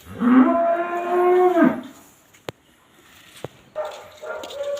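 Cattle on a farm lowing: one long, loud, close moo, followed by a couple of sharp knocks and then the start of another moo.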